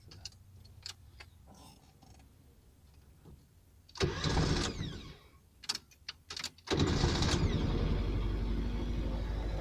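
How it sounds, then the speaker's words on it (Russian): A car engine with a newly fitted starter motor cranks in a short burst, stops, gives a few brief attempts, then catches and settles into a steady, loud idle, recorded close with no talking. "поставил новый стартер и вот, я надеюсь, будет слышно"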